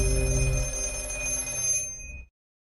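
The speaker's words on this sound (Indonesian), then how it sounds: "tiba-tiba telepon rusak tersebut berdering" A broken telephone rings with a bright, metallic bell-like trill, close and steady for about two seconds before cutting off abruptly into silence.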